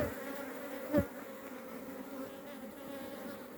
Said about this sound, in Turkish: Arı çok güzel basıyor tepede.